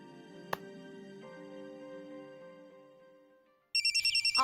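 A telephone in a Marathi TV serial scene starts ringing near the end with a rapid warbling electronic trill. Before it, sustained tonal background music plays and there is one sharp tap.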